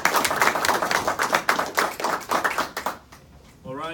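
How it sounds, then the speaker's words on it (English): Audience applause for an ambassador at a Q&A event, a burst of many hands clapping close and loud that fades out after about three seconds, followed by a brief electronic tone. "Let's give him a round of applause."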